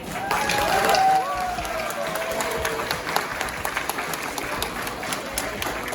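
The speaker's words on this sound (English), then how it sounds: "So please join me one more time in giving a round of applause to all those Cambodian American moms in the room." A room full of people at a celebration dinner gives a round of applause for Cambodian American mothers, dense sustained clapping that swells at the start and then settles into a steady wash, with a few voices mixed in.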